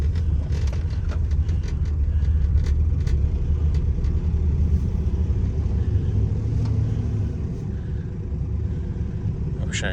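A cheap truck's engine drones steadily while driving, a loud continuous low rumble with road noise and a faint odd whine running through it.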